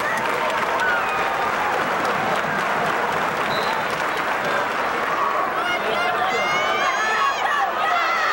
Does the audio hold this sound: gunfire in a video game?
no